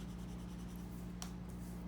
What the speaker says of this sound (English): And now what I'll do is I'll use the side of my pencil.